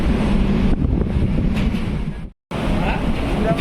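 A passenger train bound for Howrah rolls into a station with a loud, close rumble mixed with wind buffeting, cutting out briefly before the steady roar resumes.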